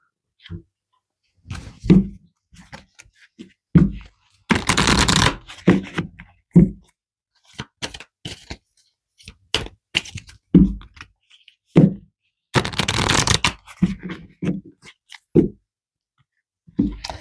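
Tarot cards shuffled and pulled in repeated bursts, with riffling swishes and sharp taps and thumps as cards are set down, close and clear with no talk.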